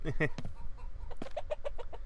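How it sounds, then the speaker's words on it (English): Chickens cluck in the video game Drizzlepath: Deja Vu, a quick run of short, choppy clucks close by that stays clear and distinct across the brief moment. "Hello, chickens."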